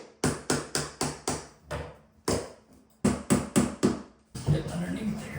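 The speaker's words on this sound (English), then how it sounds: "Hammer and painter's tool." A hammer taps a painter's tool to pry off wooden trim, a series of sharp close knocks in quick bursts with short pauses, ending in a scraping rustle.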